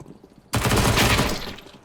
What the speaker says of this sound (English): Some shots coming in from Patrick.